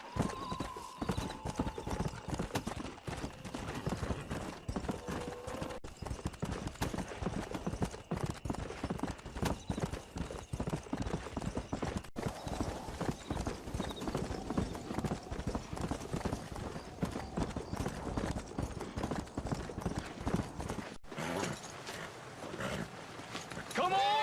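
Horse hooves clip-clop steadily and close in a Red Dead Redemption western game scene, running nearly continuously for about twenty-four seconds with people talking over them and an occasional whinny.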